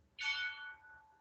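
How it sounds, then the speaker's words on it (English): A single bell rings out with a sharp strike and a resonant tone that slowly decays, heard alone during a quiet pause in an online talk about startups in shrinking regions. "there is a bell ringing"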